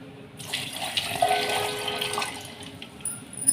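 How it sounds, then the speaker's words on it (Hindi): Water poured from a tap or jug into a mango-flavoured Tang juice mix, a steady continuous splashing stream running for about three seconds, fairly close and alone without talk. "उसके बाद इसमें हम ऐड कर देंगे पानी।"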